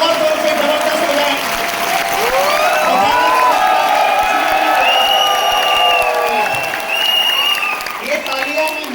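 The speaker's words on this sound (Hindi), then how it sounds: "ये तालियां मैं मांग के लिया हूं" A large audience claps vigorously and cheers at a public gathering, with scattered whoops and shouts rising over sustained applause and a voice speaking amid the noise.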